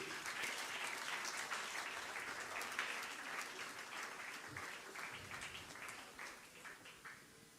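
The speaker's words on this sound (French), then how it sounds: "Encore une fois, vos acclamations, s'il vous plaît, mesdames et messieurs." An audience of young Congolese at a church gathering with an archbishop applauds and cheers, a fairly quiet, steady wash of clapping that slowly thins toward the end.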